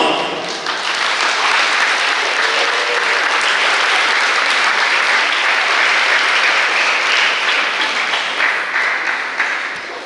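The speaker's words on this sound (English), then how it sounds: "Let's welcome and give her a round of applause, Ms. Caroline Wortham." Sustained audience applause at a high school graduation ceremony, dense steady clapping from a large crowd that fills the whole stretch and tapers slightly at the end.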